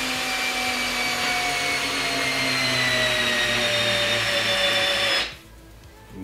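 A Makita cordless screwdriver drives bolts with a continuous high-pitched motor whine that slowly drops in pitch under load, close and loud, then cuts off abruptly near the end.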